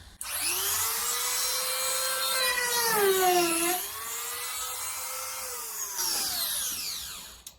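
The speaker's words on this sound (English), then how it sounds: "Put it onto the highest speed. Turn it on." A high-pitched rotary tool whines at full speed, its pitch dipping and rising as it bites into material, loud and close.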